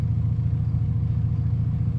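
Cars pass along a street with a steady, close low engine rumble and road noise, and no one speaks.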